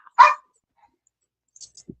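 A dog gives a single sharp, loud bark up close, followed by a few faint small sounds in otherwise quiet surroundings.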